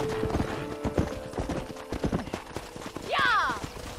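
Horse hooves clip-clop in the video game Red Dead Redemption, a brisk uneven trot of close hoofbeats while people talk, ending in a short high neigh.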